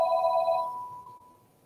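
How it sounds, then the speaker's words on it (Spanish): A home telephone gives a single short electronic ring, a bright tone that fades away over about a second with no talk over it. "Suena el teléfono de mi casa"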